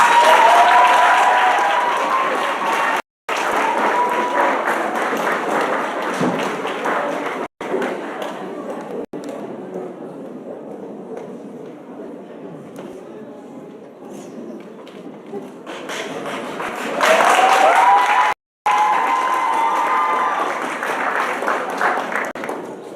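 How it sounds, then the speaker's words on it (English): Sustained clapping from an awards ceremony audience in 2024, greeting the School of General Education, with a couple of brief dropouts, a softer middle stretch and a louder swell near the end. "Keep the applause going."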